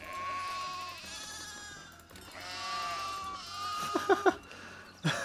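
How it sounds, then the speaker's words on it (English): Sheep in the medieval village-building game Foundation bleat repeatedly in overlapping wavering calls over a faint game soundscape, with a few short sharp clicks near the end. "And we have to spawn sheep."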